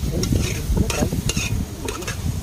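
Tempering poured into a hot pan while cooking outdoors during a rainy camping trip, crackling and sizzling loudly and steadily with stirring clatter throughout, no voices.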